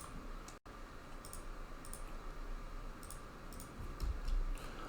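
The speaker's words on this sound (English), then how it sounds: "I'm going to type on here." Quiet, sparse button clicks from typing on a calculator, a handful of soft separate taps at an irregular pace against a faint room hum.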